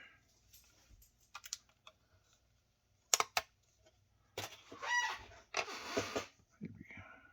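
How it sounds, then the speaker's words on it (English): A blade cuts into a sheet of 20 thou styrene, giving a few sharp clicks and then longer scratchy scoring strokes, close and quiet, with faint low voice sounds in the background. "I'm going to cut off a bit of the styrene."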